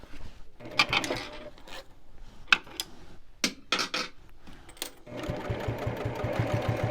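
A sewing machine top stitching a glitter vinyl project bag, with bursts of stitching separated by pauses and then a steady, close whirring run at the end.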